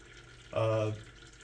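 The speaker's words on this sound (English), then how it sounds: "it's not going to hurt anything to add a little more water" Hot water pours from a carafe into water in one brief splashing pour of about half a second, fairly faint against a quiet background, with no talking.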